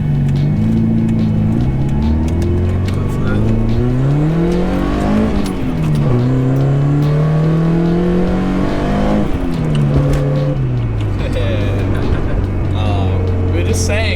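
A Mk3 car engine, not yet fully warm, revs up and down repeatedly, climbing in pitch as it accelerates, loud and close, with people talking over it.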